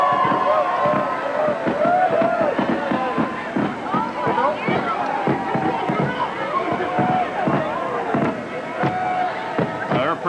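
New Year's fireworks burst over Sault Ste. Marie, Ontario, heard at a distance as repeated pops and crackles under a hubbub of crowd voices and talk.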